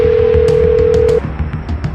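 A phone signals a late-night call with a steady electronic tone held for about a second, then cuts off, leaving a music bed and faint background sounds.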